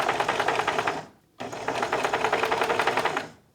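Sewing machine stitching quilt pieces with quarter-inch seams, a rapid steady mechanical chatter in two close bursts separated by a brief pause, loud and near with no talking.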